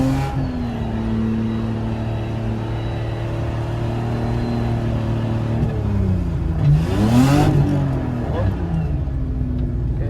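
A car engine revs up as the throttle opens on a track day, steady harmonic drone with a rising sweep near the end, a voice talking over it.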